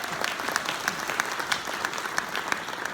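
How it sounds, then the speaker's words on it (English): Audience applause at an entrepreneurs event in London, a steady spread of many hands clapping with sharper individual claps standing out at a moderate level. "Let's give a round of applause for being here."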